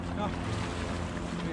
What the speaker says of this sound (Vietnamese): Tàu thuyền trên kia nó chạy xuống à?